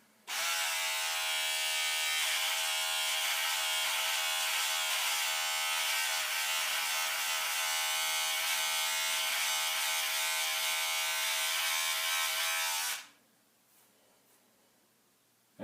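An electric beard trimmer buzzes steadily and loudly at close range for about twelve seconds, a dense even drone that cuts off abruptly, leaving near silence.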